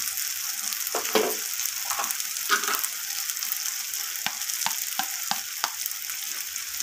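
Ginger paste, tomato and spices fry in a pan, a continuous sizzle broken by repeated sharp scrapes and taps of a spoon stirring, with no one speaking.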